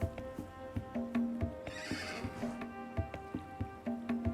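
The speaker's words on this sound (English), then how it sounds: "That's the struggle with hunting something like a horse. They run." Horses in the video game Dawn of Man flee across northern terrain: a loud whinny rises midway over a steady, rhythmic clip-clop of hooves that continues throughout.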